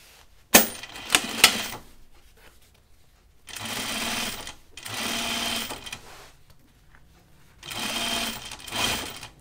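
A sewing machine stitches stretch denim for a pair of jeans in three separate rapid bursts of whirring, each lasting about a second or two, after a few sharp clicks at the start and quiet pauses between runs.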